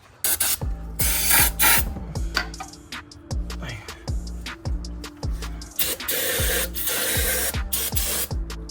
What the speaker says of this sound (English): we got our brake cleaner fluid. We're gonna go ahead and start cleaning this thing down.